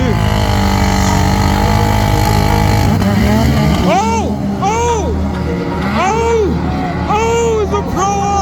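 Race cars and buggies rip through the Glamis dunes at night, engines roaring loud and continuous with rising and falling revs as vehicles pass close by, while excited voices talk over the noise.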